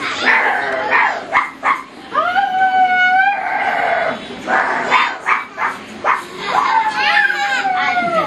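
Dog howls in a puppet theatre show, drawn-out wavering howls rising and falling alongside yips and lively voices, loud and close, with brief pauses between the calls.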